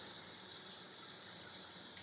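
A sink faucet runs steadily while hands are rinsed of soap underneath. The water makes an even, soft splashing rush with no talk.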